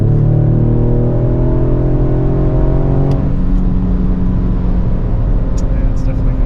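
Ford Explorer ST family SUV accelerating hard on the highway, its engine note climbing steadily before the transmission upshifts and the pitch drops, then builds again; loud and close inside the cabin, with a voice talking over it.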